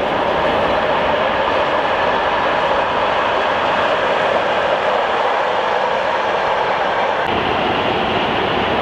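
Freight train loaded with cars passing at night on a high-speed line at Rohrbach, a loud steady rushing roar of wagons rolling by close, with a sudden shift in tone near the end.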